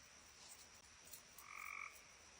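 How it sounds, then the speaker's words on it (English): A frog croaks once, a short buzzy call rising over a quiet rural background hiss, moderately near and alone without any voices. "That was a frog."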